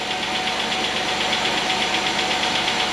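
A newly assembled 3400 engine idles steadily while warming up in a shop, a continuous loud mechanical hum with a faint knocking undertone and no voices.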